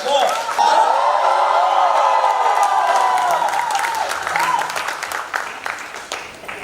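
A studio audience at a Hindi comedy talk show claps loudly, with cheering and tonal voices or music woven through; the clapping holds steady, then thins and tapers toward the end.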